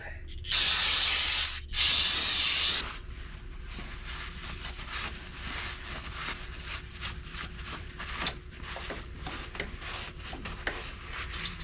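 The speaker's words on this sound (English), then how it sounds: "I'm going to go ahead and spray all this down with brake cleaner." Two loud bursts of aerosol brake cleaner hiss back to back onto a 1960 Harley-Davidson Panhead's front brake parts, followed by quieter shuffling and small clicks.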